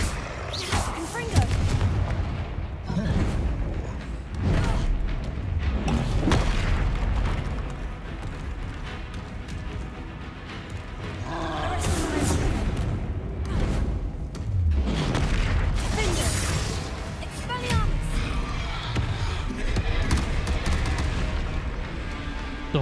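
Confringo explosion spells in Hogwarts Legacy go off as repeated deep booms and blasts across a long combat stretch, with rumbling impacts between them and a voice talking over the fight.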